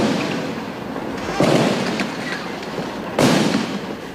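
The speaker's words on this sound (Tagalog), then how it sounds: "muling umalingaw-ngaw ang sunod-sunod na putukan sa pagitan ng tropa ng pamahalaan at tropa ng isang paksyon ng MNLF" Gunfire is exchanged between government troops and an MNLF faction, heard as two loud, sharp blasts a couple of seconds apart over a rough, continuous outdoor rumble.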